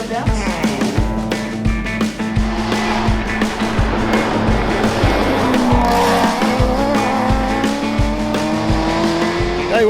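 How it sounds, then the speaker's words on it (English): Shelby GT Mustang rally car on the Targa Tasmania tarmac rally, its new exhaust roaring loudly at speed with rapid gear-shift pulses and brief tire squeal, continuous and close throughout. "I guess you can always hear the new exhaust"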